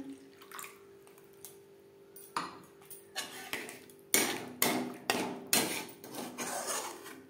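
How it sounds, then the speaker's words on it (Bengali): Broccoli with milk and spices being stirred in a pan over a low flame, a spoon scraping and knocking against the metal in a steady run of sharp clinks and taps that grow louder and more frequent, with no voices. "লো ফ্লেমে 1-2 মিনিট নাড়াচাড়া করে নেব"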